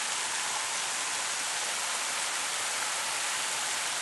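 A big garden waterfall pours into a koi pond on a home's exterior grounds, giving off a steady, even rush of falling water with no breaks, heard at moderate volume.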